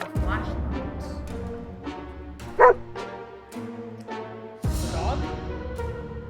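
A dog barks in the survival video game 60 Seconds, giving several close yips and barks with some whimpering, set against a game music bed and followed by a heavy thud.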